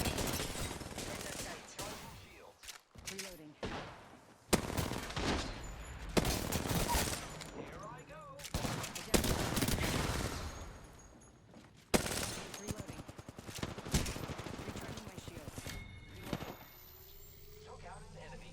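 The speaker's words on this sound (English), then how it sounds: "close down the gap and play close range with my R99 and help Tommy." Rapid R99 submachine gun bursts in the video game Apex Legends fire in repeated loud volleys over game sounds, while a player talks throughout.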